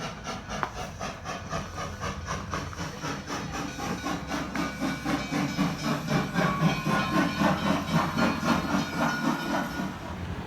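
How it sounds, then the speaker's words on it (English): A rotary steam engine, Denver, Leadville and Gunnison engine number 1, hisses and rumbles steadily with a rhythmic chuffing, loud and close for the whole stretch, with no voices. "This one is a rotary engine."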